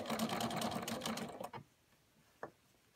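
A sewing machine stitches quilt binding in a quick rhythmic run of mechanical clatter for about a second and a half, then stops, leaving a single faint click afterward.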